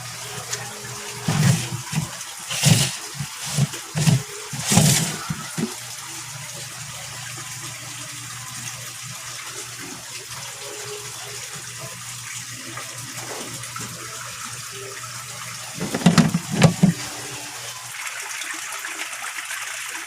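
A pond pump pushes water in a steady, moderate wash of flow, with several louder splashing gushes early on and another burst later. There is no talking.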